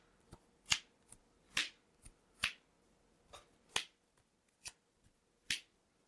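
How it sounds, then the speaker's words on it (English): Sleeved Magic: The Gathering cards are shuffled by hand, giving a series of sharp, separate snaps and riffles at an uneven rhythm, fairly quiet and close, with no talk. "I don't know why I'm shuffling, because we're going to game 3."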